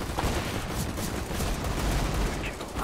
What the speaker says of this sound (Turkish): Abi adamlar her yerden vuruyor ya.